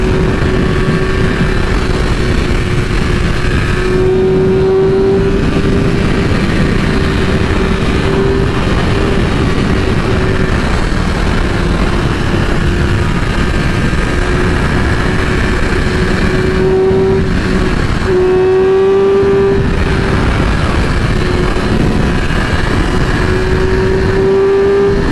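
Car cruising along a highway in a video game, a steady loud engine drone with a sustained pitch that rises and dips slightly through gear shifts, continuous throughout with no talk.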